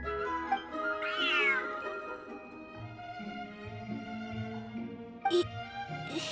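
A large cat in the video game Genshin Impact gives a drawn-out meow, heard clearly over steady game background music, with a second brief cry near the end.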